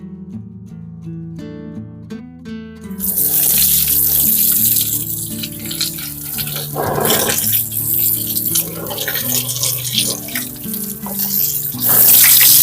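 A steady rush of running water from a tap, washing an air-conditioner filter, starts a few seconds in and continues loudly over music, with a brief spoken word.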